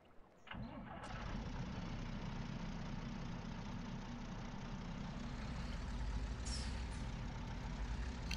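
A small truck in Farming Simulator 2013 starts up and drives steadily, its engine drone continuous and fairly close, rising slightly toward the end with a brief hiss-like burst near the finish.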